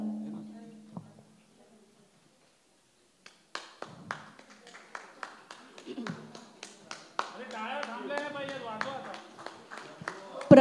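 During an awards felicitation, a voice speaks briefly, then scattered audience clapping begins after a short silence and builds into denser, irregular applause, with talking mixed in.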